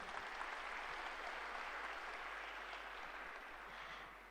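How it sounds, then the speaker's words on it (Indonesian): Large audience at a national Chinese New Year (Imlek) celebration clapping, a faint, distant, even wash of applause with a low hum beneath, tapering off at the end. "Mari kita berikan tepuk tangan sekali lagi"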